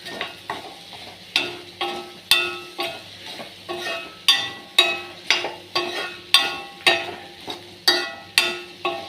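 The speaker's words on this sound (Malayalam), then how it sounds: "ഉപ്പിട്ടതിന് ശേഷം ഇളക്കി കൊടുക്കുക." Stirring a Malayalam-style mixed curry of breadfruit (seemacchakka koottukari) just after adding salt, heard as steady rhythmic scrapes of a spoon against the pan, roughly one per second, each with a short sizzling tail, close and without talk.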